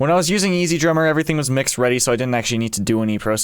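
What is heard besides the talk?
No distinct noise like a dog, phone or traffic.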